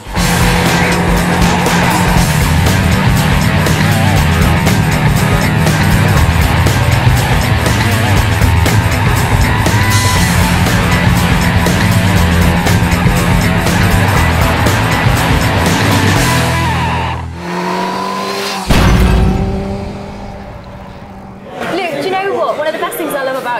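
A motorbike rides along a road with a loud, close engine drone that holds steady for most of the pass before it drops away and a sharper tyre sound follows. Voices chatter faintly in the background.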